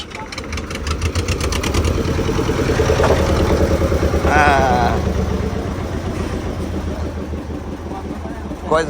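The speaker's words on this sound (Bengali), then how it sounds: "পরিচিত একজন জেলে এসে তার ট্রলার ভিড়ালেন আমাদের পাশে" A fishing trawler's engine chugging steadily as the boat pulls alongside, a loud, close, rhythmic diesel thrum that runs throughout with a brief voice over it.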